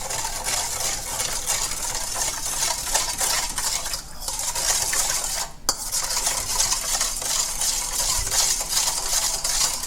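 Continuous stirring and scraping of a utensil in a bowl as sauce is mixed with spicy sesame oil (rayu), a steady close clatter with a brief sharp knock partway through and no speech.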